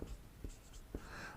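Pen strokes scratch across a worksheet as numbers are written, three short close taps and scrapes, quiet and alone.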